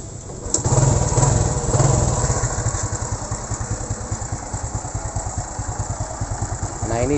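A Honda Supra motorcycle engine running unsteadily on a weak battery, a close, rapid putter that surges briefly with the throttle early on, then settles into an uneven idle for several seconds.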